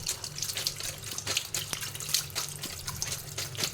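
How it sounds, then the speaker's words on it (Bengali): Tengra fish are rinsed under running tap water, a continuous splashing flow with scattered drips and small clatters close by, with no talking. "ভালো করে ধুয়ে নিই এমনি জল গরম জল সবচেয়ে ধোবো"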